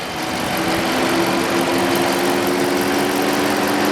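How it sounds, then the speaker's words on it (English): The cooling fans of a 2017 Dodge Charger police pursuit vehicle with a 5.7 HEMI V8 whir steadily over the engine's close idle, adding a constant hum with tonal bands that holds unchanged. "You hear the fans engaging."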